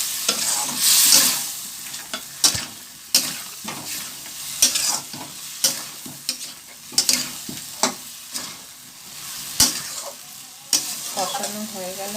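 Spice paste for aloo dum sizzles in a pan as a spatula stirs and scrapes it in repeated strokes, close and clear, with a brief voice near the end.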